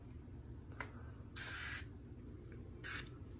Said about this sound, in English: Body spray of the day, Deep Woods.